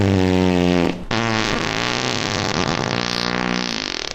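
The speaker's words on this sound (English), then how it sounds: "It was the worst fart of his life. It made a tremendous noise and shot him across the room." A long, loud, buzzing fart sound effect for Walter the dog rips through for about four seconds, with a brief sputtering break near the start before it rumbles on and slowly trails off.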